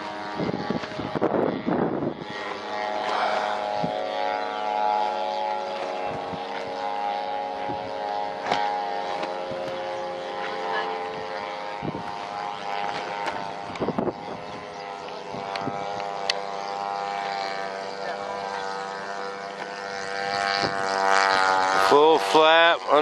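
A P-51 Mustang warbird comes in to land under power with gear down and full flap, its propeller engine droning steadily and fairly close for a long stretch, with wind buffeting and people talking over it.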